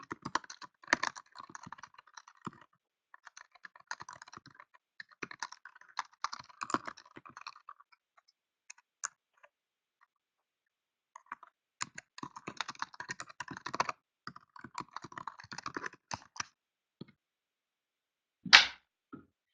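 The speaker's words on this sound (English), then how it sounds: "Let me write a quick note to Sean." Typing on a computer keyboard, bursts of rapid close key clicks with a pause midway and a single sharper tap near the end, quiet and without talk.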